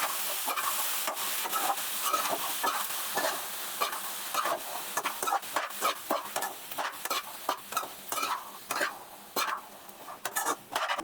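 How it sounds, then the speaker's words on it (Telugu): Boiled black-eyed beans being stirred into a sizzling tempering in a pan, with a steady fry hiss under repeated scraping strokes of a spoon that grow sharper and more spaced toward the end. "పోసిన తర్వాత మొత్తం ఒకసారి కలుపుకోవాలి."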